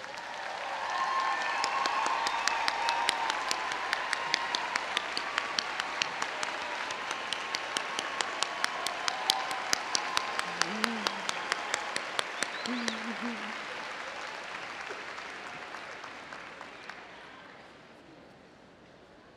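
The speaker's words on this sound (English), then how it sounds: "the family members of the graduating students please need to stand up and rise and get all of our applause once again" A large crowd applauding continuously for a long stretch at a university commencement ceremony, with a few sharper claps standing out, gradually fading away near the end.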